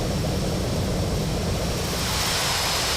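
Steady, dense jet engine roar of a Lockheed L-1011-100 widebody airliner in Flight Simulator X, a constant broadband rumble and hiss with no change in level and no talking.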